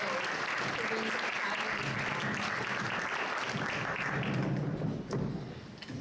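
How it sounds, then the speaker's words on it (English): Audience applause fills a college hall at a Martin Luther King Day keynote event, a steady dense clapping that holds loud throughout before tapering near the end. "Can we all give a round of applause again"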